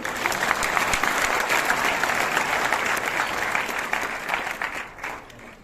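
An audience breaks into loud, sustained applause after a governor's speech at a public event in Bihar, with dense clapping that holds steady and then starts to thin out at the end.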